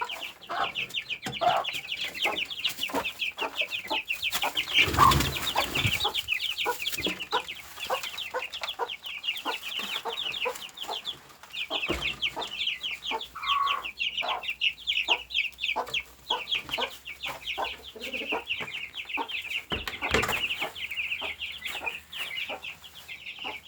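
A flock of farm-raised hens clucks steadily and busily throughout, with dense overlapping calls at moderate loudness and a few louder knocks and bumps.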